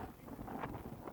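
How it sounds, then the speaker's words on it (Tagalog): Wind buffets the microphone in a low, continuous rumble with gusty fluctuations outdoors in Tuscany in winter, fairly faint and without any voices. "Sobrang ingay. Hangin."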